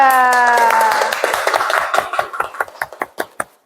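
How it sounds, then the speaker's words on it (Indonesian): Scattered classroom clapping for a student group, starting as a dense patter under a brief voice and thinning into separate claps that fade out over a few seconds. "Ya, tepuk tangan buat kelompok 3."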